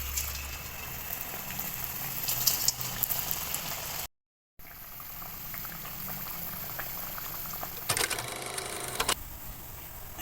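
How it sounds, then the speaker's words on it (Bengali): Potato jalebi fries one piece at a time in hot oil, giving a steady bubbling sizzle throughout with a brief break and a short, sharper burst of spatter near the end. "এবার একটা একটা করে ভেজে নেব।"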